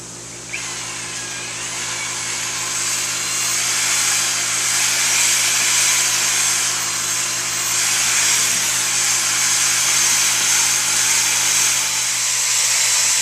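Two parts of a 100% solids epoxy resin, a hot-weather blend, are mixed with a powered mixer that gives a loud, steady whine, starting abruptly and running unbroken throughout with no talking.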